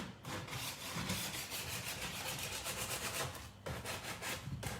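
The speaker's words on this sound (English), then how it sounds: "we are going to sand a bit to reveal some of the white at the bottom" Coarse 80 grit sandpaper rubs back and forth across a painted wooden photo frame in quick, rhythmic scratchy strokes, close and continuous with a brief pause partway through.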